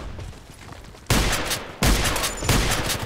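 Two loud KelTec KSG pump-action shotgun blasts in the Contract Wars shooter game, about 0.7 seconds apart, each a sharp broadband boom trailing into a ringing tail over faint background noise.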